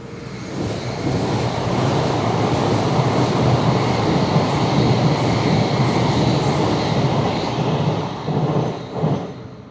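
A train rumbles past continuously near a canal on the Macclesfield route, a loud, sustained roar of rolling wagons that builds and then eases off toward the end.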